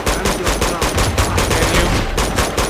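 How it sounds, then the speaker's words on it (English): Rapid gunfire from a final boss fight in Uncharted 2, loud and continuous with dense bursts of shots and a heavy low rumble throughout. "I'm guessing you can't kill him by shooting."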